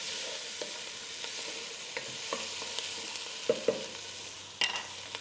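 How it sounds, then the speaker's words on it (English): Chopped onion frying in a pot for a one-pot Moroccan chicken, a quiet even sizzle with scattered scrapes and taps as it is stirred, close and without talk. "onion goes in. Give that a stir, turn the heat down a little bit."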